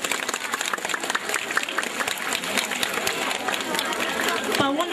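A crowd at a school opening ceremony claps in steady applause with chatter and voices mixed in, and a voice rises near the end.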